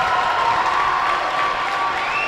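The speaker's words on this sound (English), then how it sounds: "Crowd is excited here." Crowd in a high school gym cheering and shouting loudly and steadily as the Lancers close out a boys varsity basketball win, a continuous roar with whoops rising above it.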